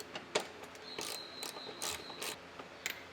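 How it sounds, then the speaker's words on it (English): A ratchet backs out 10mm screws from the grille of a 2020 Toyota Tacoma TRD Pro, giving quick bursts of fine clicking close by, quiet and with short pauses between turns. "So let's go ahead and get the screws out."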